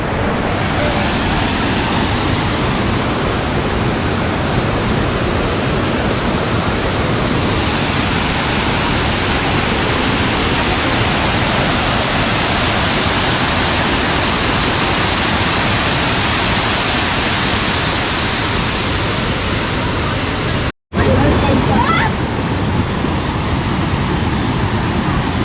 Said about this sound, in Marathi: तिकडे धबधब्यासारखं बघा पाणी कसं पडतोय खाली.